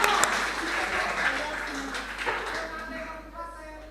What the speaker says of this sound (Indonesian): Kasih aplaus yang sangat meriah.